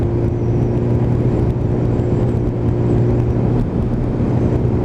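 A 1996 Kawasaki motorcycle fitted with an imported ZX7R engine pulls hard on an open road, a loud sustained engine drone with steady wind rush, recorded close from the rider's position and heard alone.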